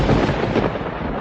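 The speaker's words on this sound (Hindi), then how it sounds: "ये बिना मौसम की गरजती हुई बारिश हमें क्या संकेत देती है?" Loud, close rumble of thunder from unseasonal rain, a heavy booming roll that swells and fades slightly, with no voices.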